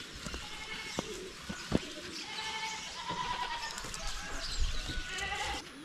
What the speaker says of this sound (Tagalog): Nahabol nila yung kalapati.